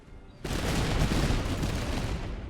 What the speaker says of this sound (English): We've also updated the musket sounds to be a lot more natural and punchy.